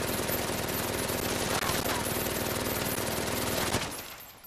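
Sustained rapid machine gun fire in the Medal of Honor: Above and Beyond VR game, a loud continuous rattle that cuts off abruptly near the end and fades out.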